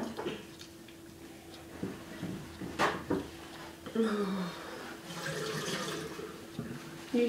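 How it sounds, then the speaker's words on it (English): A tap runs into a bathroom sink during cleaning, a steady wash of water broken by clatters, knocks and splashes, with a person talking intermittently. "This is my attempt at cleaning the sink."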